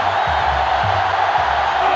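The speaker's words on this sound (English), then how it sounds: "This crowd is going crazy." Stadium crowd cheering in the college football video game NCAA Football 2005, Clemson Tigers versus Florida Gators, a dense continuous roar of distant fans with low tonal swells underneath, loud and steady for the whole moment.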